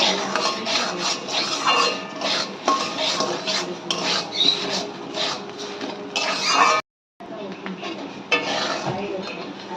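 Gobindobhog rice with turmeric and salt being dry-roasted in a pan, stirred continuously with a utensil that scrapes rhythmically against the metal, alongside a faint sizzle and one brief drop-out.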